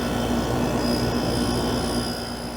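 A garage air conditioner unit running with its compressor on, a loud steady droning hum with a faint constant rattle and a high whine, close and continuous with no talk.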